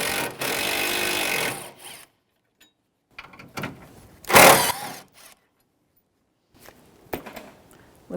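Ratcheting and clicking from a 10mm socket wrench working the top radiator support bracket bolts on a Nissan Frontier, in short bursts separated by quiet pauses, close and fairly loud.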